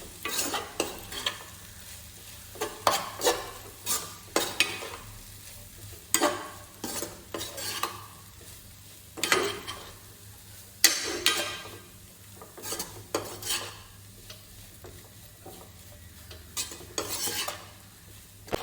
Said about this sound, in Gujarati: હવે બરાબર રીતે આને મિક્સ કરી દઈશું.